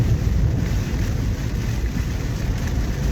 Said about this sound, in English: We got a monsoon going on this morning. Good to see the rain.